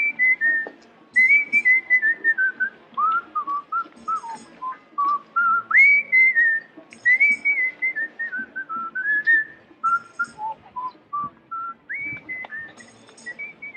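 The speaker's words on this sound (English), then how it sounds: "I even like the way he whistles." A man whistles a lively, sliding melody in close, clear, repeated phrases with short pauses between them, alone over quiet background.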